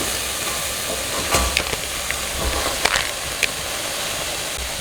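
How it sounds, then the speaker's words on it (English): Zucchini hits a hot, dry pot and sets off a loud, steady sizzle and hiss, with a few sharp crackles and pops as the pieces land and settle. "I am going to add the zucchini now."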